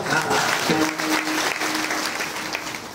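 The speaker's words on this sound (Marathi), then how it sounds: "आचार्यासाठी जरा टाळ्या वाजवा." Audience at a village meal gathering clapping for the cook, dense continuous applause from a crowd throughout, with a voice briefly heard beneath it.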